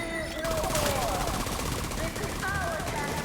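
Rapid gunfire rattles toward the player in The Division 2 video game, a dense continuous burst of shots mixed with game effects throughout the short stretch.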